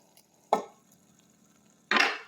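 Two sharp scraping strokes of a spoon stirring pepper crab thokku with coconut in a pan, one near the start and a longer one toward the end, with near-silence between.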